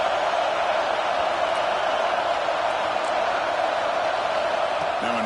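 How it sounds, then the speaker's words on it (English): Dense, steady roar of a packed stadium crowd in College Football 26, loud and unbroken throughout with a faint rise near the end. "listen to this crowd noise. This stadium is vibrating."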